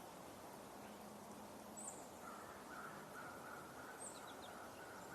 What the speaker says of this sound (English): we're hearing the crow continue to call